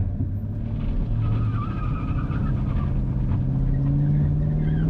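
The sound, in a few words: 2012 Camaro SS spinning tires doing donuts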